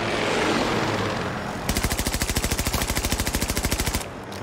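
Automatic rifle fire in Battlefield 2042 on the Hourglass map's downtown area: a steady, rapid burst of evenly spaced shots lasting over two seconds, loud and close, after a stretch of rumbling ambient battle noise.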